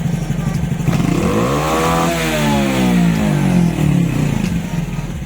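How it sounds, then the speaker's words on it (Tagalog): A Honda XRM 125 fuel-injected motorcycle engine revving up close and loud, pitch climbing steadily and then falling back over several seconds, with steady mechanical clatter throughout. "Okay, kung papansin natin yung rev ko"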